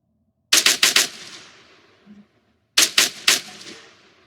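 Automatic weapon fire on an ArmA 3 firing range comes in two loud, close bursts of about four rapid shots each, separated by a short pause, with brief echoing tails.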